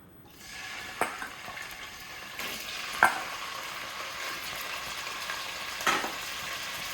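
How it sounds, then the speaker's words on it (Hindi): Chicken pieces drop into a pan with bay leaf for Awadhi korma, setting off a sizzle that builds and holds steady, punctuated by three distinct metallic clinks of the stirring spoon, with no talking. "अब इसमें हम डाल देते हैं चिकन"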